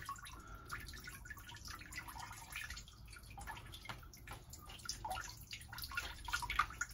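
Fencing mask with foam padding being gently squeezed and worked in a basin of water, giving soft continuous splashing, dripping and sloshing close by, with no talk.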